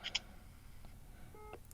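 An incoming call rings on an Apple Watch as a few faint, brief electronic tones and beeps, quiet over a low background hum.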